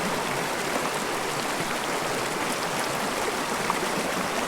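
Creek water flowing over rocks in a steady, dense rush close to the listener, a constant hiss with no voices.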